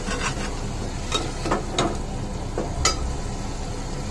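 Garlic ginger paste and spices frying in a pan for a dried semal vegetable dish, a soft continuous sizzle with a few scraping stirs of a spoon against the pan.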